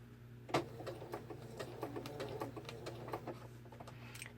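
Sewing machine stitching a larger curve for a spring craft project with its speed set to about half, giving a steady mechanical hum with faint regular needle clicks throughout and no talk.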